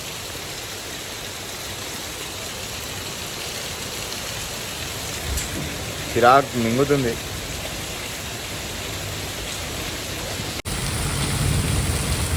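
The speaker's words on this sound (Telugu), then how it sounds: "అమ్మ గంట నుంచి 1 hour నుంచి వాన పడుతుంది." Steady rain falls throughout as a continuous close hiss, with a person speaking briefly in the middle over it.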